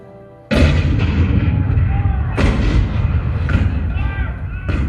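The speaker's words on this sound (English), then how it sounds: "The cannon spoke for war, bitter, violent, and devastating." Heavy cannon fire booms in several loud blasts, one after another, with rumbling echoes and continuous battle noise between the shots.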